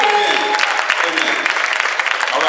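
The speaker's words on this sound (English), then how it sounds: "Give a round of applause." An audience at a community panel on crime solutions breaks into a short burst of steady, lively clapping, with a voice briefly audible over it.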